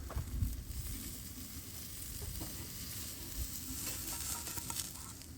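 Butter sizzling and frying in a pan on an outdoor stove in freezing 20°F weather, a steady close crackling hiss with occasional stirring and scraping throughout, with no talking.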